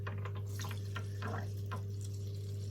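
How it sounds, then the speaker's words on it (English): Water runs in a Gaahleri AF720 airbrush spray booth, a faint, steady trickle and splash over a constant low electrical hum, with no talking. "We'll switch the water back on, see what happens."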